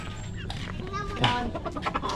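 Chickens cluck close by in short, scattered calls, partly under people chatting.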